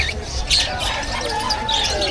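Parrots at a pet market for budgies and lovebirds give harsh, piercing squawks and chirps over a busy background of crowd noise, several sharp calls overlapping through the short stretch.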